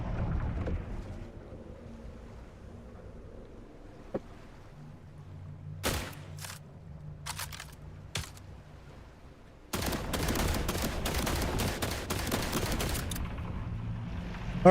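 Gunfire in The Last Caretaker video game comes as a couple of isolated shots and then a sustained dense burst of rapid fire, over a low rumbling ambient hum.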